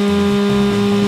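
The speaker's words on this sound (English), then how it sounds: "let's just go ahead and sand that out a little bit" Power sander working a rough metal edge during a craft build: a steady, loud, close motor drone with a strong constant hum, running without a break and with no talk over it.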